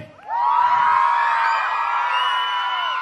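A loud crowd of young voices shouts and whoops together at a host's urging during a village Home Minister Paithani game event in Agran Dhulgaon, sustained and energetic for a few seconds after a quiet start.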